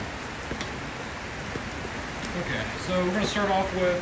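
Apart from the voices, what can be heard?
rain falling outdoors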